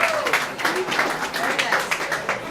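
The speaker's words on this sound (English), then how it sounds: "thank you for your applause" Audience applause at a jazz gallery event, a steady wash of many hands clapping with a voice audible over it.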